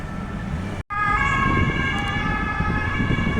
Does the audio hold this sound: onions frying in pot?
no